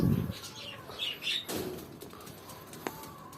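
Ornamental birds in an aviary, with a burst of wing flapping followed by chirps and soft calls, nearby and moderately loud, plus a sharp click near the end.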